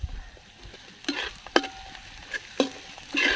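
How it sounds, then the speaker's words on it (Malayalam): Green chillies and tomatoes hit a pan of softened onions and fry for a Kerala-style fish head curry, with intermittent scraping stirs and soft sizzling bursts recurring every second or so. "അതിലേക്ക് നമുക്കൊരു 6 പച്ചമുളക് കീറിയതും 2 തക്കാളി അരിഞ്ഞത് ഇട്ട് കൊടുക്കാം കേട്ടോ"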